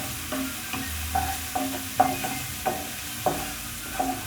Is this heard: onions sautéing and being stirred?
yes